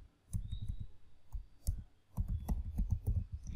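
Soft clicks from a computer keyboard come in a quick short run as a username is typed. The keystrokes are faint and sit over a low background hum.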